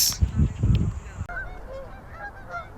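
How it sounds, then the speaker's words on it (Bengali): Geese honking by a river in the USA, a few calls from a moderate distance in the second half, after a short burst of low rumbling wind or handling noise. "দেখেন কি সুন্দর পাখি কি নাইস লাগতেছে জোস পাখির শব্দ শুনতে পাচ্ছেন ডাক শুনতে পাচ্ছেন"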